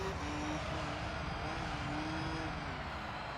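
A turbocharged prize car's engine in the Gran Turismo 3 racing game, droning steadily at fairly constant revs for a few seconds with a smooth, continuous tone and no speech.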